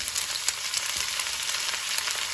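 Chinese cabbage stalks stir-fried over high heat in a wok with chili and ginger, giving a bright, dense sizzle with quick crackles and soft tossing scrapes, close and steady.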